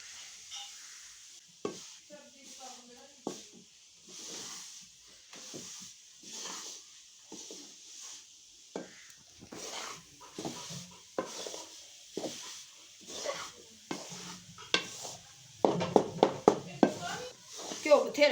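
Besan roasting in ghee in a pan, a soft continuous sizzle broken by repeated scraping stirs, growing busier toward the end, with a voice talking over it.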